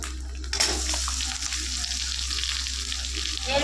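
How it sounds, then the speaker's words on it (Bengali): Onions and chopped tomato fry in hot oil, giving a steady, close, continuous sizzle that holds evenly from start to finish with no one speaking. "এবার এইগুলো একসাথে ভাজবো।"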